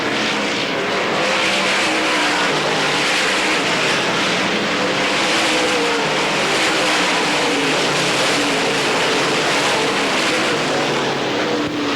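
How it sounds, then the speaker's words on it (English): Race cars on the dirt track at Pennsboro Speedway during the 1990 Hillbilly 100 make a steady, loud engine roar that fills the air throughout, dense and unbroken like a pack running together. "Donnie Moran in that number 99 car seems to be really picking up a lot of speed"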